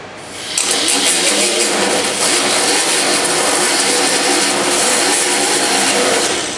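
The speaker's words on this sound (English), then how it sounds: "And you take your little grinder." A small angle grinder cleaning up car body work: an abrupt start into a loud, harsh, continuous high-speed whir with gritty grinding that holds steady throughout, very close, with no voices.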